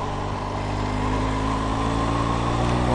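Motorcycle engine running steadily at a constant throttle, a continuous loud drone with a low harmonic hum throughout, with no voice over it.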